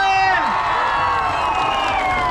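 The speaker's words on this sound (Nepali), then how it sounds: "सम्पूर्णले एकचोटि जोरदार ताली" An audience at a Nepal festival in Tokyo cheers and claps loudly, with whoops and voices rising over the applause and dense crowd noise throughout.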